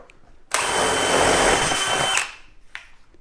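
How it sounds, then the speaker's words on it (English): A power drill with a 3/8 bit whines steadily for about two seconds as it bores through cement board, then spins down, with a brief tap afterward. "we're just going to take a drill, and we're going to drill through our cement board"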